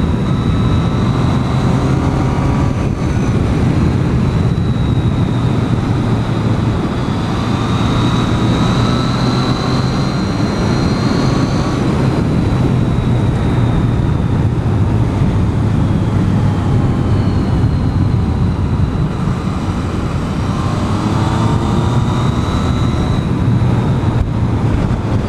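A 2014 Yamaha FZ-09/MT-09 motorcycle ridden around Clearlake, California, giving a loud, steady engine drone mixed with heavy wind rush that continues without a break and without talk.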